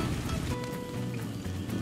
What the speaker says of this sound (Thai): ฝนแบบโคตรหนักอะ